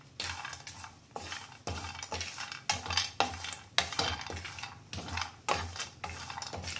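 A spoon stirs coconut and peanuts roasting in a hot pan, a scraping, rhythmic stir repeated about once a second with faint sizzling, quiet and close, no voices.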